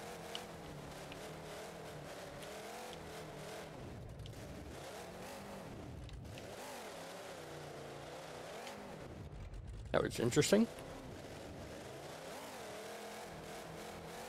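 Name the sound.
truck engine revving and driving, from video game BeamNG.drive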